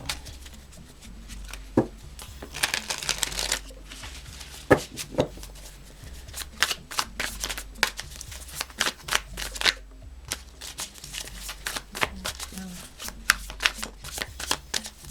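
A deck of tarot cards shuffled by hand, with repeated close, crisp riffles and flicks in irregular bursts and brief pauses throughout, and no voices.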